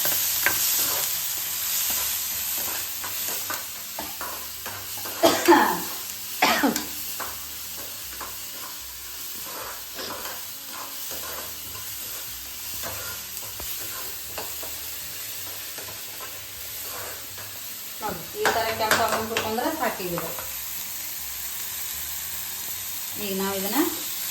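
Onions frying in oil in a pan for an Ennegayi brinjal curry, with a steady close sizzle and louder scraping stirs in two bursts, one early and one near the end.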